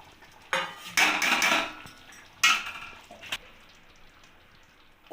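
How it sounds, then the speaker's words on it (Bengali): A utensil stirs chicken manchurian balls in gravy in a pan, making a few bursts of close metallic scraping and clinking against the pan with quiet gaps between them. "এবার মাঞ্চুরিয়ানের বলগুলোতে আমি ভালো করে নাড়িয়ে নেব।"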